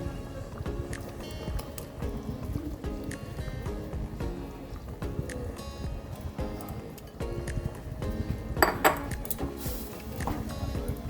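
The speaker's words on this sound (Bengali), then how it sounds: "এবার আমি ভেজে রাখা আলুগুলো দিয়ে দেব।" Fried potatoes going into a pot of mutton curry, with busy clinking and scraping of a utensil against the pot and dull knocks, close and continuous.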